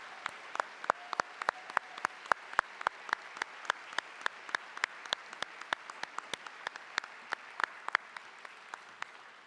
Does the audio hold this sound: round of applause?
yes